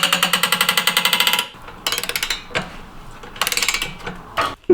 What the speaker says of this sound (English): Mate, the ratchet is unbelievable.